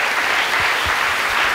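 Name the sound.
audience clapping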